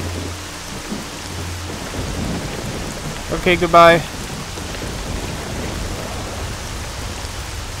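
Steady rain and a thunder rumble in the video game STALKER: Shadow of Chernobyl, with a sharp crackling thunderclap near the middle over constant rainfall, and a brief spoken voice.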